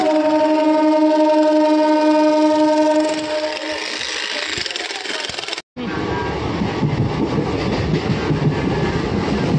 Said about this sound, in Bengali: চলো ট্রেন ঢুকে গেছে